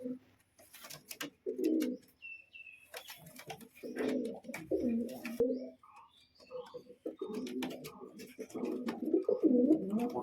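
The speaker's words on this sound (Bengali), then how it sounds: "এটা একজোড়া হাই ফ্লাইং পায়রা ফুলশিরা গিরিবাজ" A pair of high-flying Fulshira Giribaz pigeons coo up close in repeated low, throaty bursts, with faint chirps and rustling between calls.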